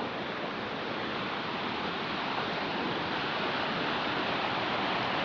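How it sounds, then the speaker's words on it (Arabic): Broad, constant rush of a cold, long river flowing in Interlaken, Switzerland, a dense steady wash with no pauses and no voices. "هذا النهر."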